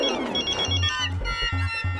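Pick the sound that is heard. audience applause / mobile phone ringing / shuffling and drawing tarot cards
mobile phone ringing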